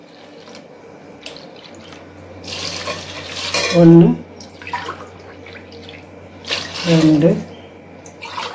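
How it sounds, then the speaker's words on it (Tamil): Water pours into a cooking pot, measured out by the tumbler for a spicy egg pulao, in two loud sloshing pours separated by a pause, while a person talks throughout. "இப்போ தண்ணி ஊற்றிக்கலாம்."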